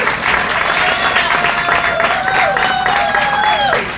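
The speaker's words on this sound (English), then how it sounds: "Can we give her another round of applause?" Audience applause at a community groundbreaking ceremony for a town square at the Suitland Federal Center, a dense, steady wash of clapping lasting the whole stretch, with a voice or tonal line running faintly beneath it.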